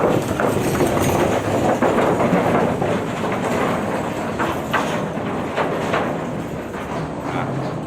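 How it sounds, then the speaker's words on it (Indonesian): A long train rumbles across the 202-metre Cirahong bridge overhead, a loud continuous roar with rhythmic clickety-clack of wheels on the rail joints, heard from below the span without any talk. "kereta tuh melintas di atas teman-teman ya"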